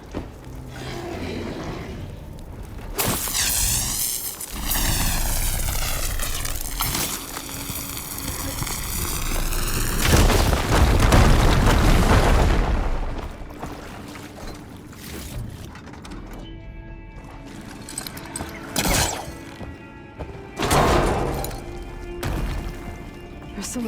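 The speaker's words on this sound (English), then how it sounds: "Should be able to blow up that fire gleam." A fire gleam is blown up in Horizon Forbidden West, giving a loud burst with crackling debris and a rumbling roar that swells near the middle, then settles into softer rattling and game ambience.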